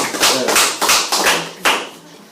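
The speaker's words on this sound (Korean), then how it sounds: "게스트가 왔으니까 일단 박수." A small group claps together to welcome a guest, a few loud, uneven bursts of hand claps close by with no talking.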